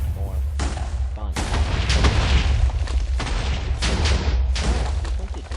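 Several Minecraft TNT missiles explode one after another in loud, heavy blasts over a constant low rumble, each burst sharp and close.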